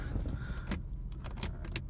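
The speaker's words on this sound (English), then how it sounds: "Just put my key in the ignition" Car keys jangling as the key goes into the ignition of an old Mercedes with mahogany wood trim, a few quick, close metallic clinks over a quiet low background hum.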